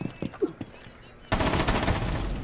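Gunfire in Rainbow Six Siege, opening with a few scattered clicks and thuds before a sudden loud burst of rapid automatic shots crashes in and rattles on to the end.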